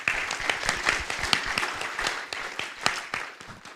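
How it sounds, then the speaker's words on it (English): Panelists at the Ketagalan Forum Indo-Pacific Security Dialogue receive applause from the conference audience, a lively patter of many hands with sharp individual claps, strong at first and tapering slightly toward the end. "I'd like us all to give a round of applause to our panelists."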